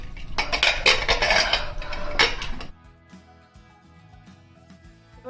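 A lid and metal utensils clatter loudly against a pressure cooker of mutton curry, with sharp repeated clanks and scraping for a few seconds, followed by quieter scattered taps and knocks.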